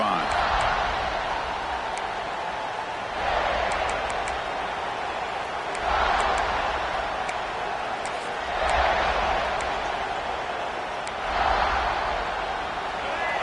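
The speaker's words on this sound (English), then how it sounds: "this crowd is fired up. Listen to this noise here." A big stadium crowd at a USC versus UCLA football game roars loudly and continuously, the noise swelling in several waves, with no one speaking close by.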